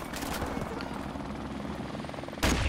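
A helicopter in the Call of Duty: Modern Warfare Remastered multiplayer game chops loudly and steadily, with a sudden louder burst of rotor noise near the end and no voices over it.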